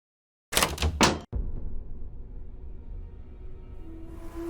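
A locked door rattles in the Nancy Drew game Shadow at the Water's Edge: a few quick, close knocking jolts in a short burst, then a low, quiet room hum.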